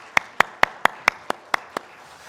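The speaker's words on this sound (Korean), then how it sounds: "하나님께 영광의 박수 올려드리겠습니다" A church congregation gives a short run of applause, eight evenly spaced sharp claps in a steady rhythm, close and distinct against a quiet room.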